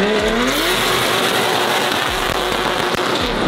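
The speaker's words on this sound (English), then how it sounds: "He took the jump in the drift car." A drift car's engine revs hard and loud throughout, with rising pitch as it launches off a jump, under a continuous roar of motor and tire noise at close range.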